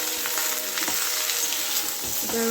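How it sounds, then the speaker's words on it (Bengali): Vegetables for spinach chorchori fry in a hot pan with a steady, bright sizzle that runs the whole time. Occasional stirring scrapes and clinks break through the sizzle, and no one speaks. "ভালো করে ভাজতে হবে সবজিগুলোকে"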